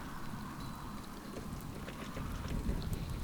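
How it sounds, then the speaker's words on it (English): Heavy rain pours down steadily outdoors on a waterlogged horse pasture, a dense, continuous hiss of drops that swells slightly toward the end, with no voices. "unfortunately it's now throwing it down"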